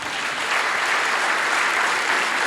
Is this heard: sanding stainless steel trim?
no